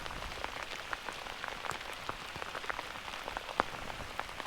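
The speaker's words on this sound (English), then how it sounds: "As the rain flows over the lake" Rain falls over a lake at Mirror Lake, Oregon, a soft, even hiss of drops striking the water surface with scattered sharper individual patters, faint and continuous throughout.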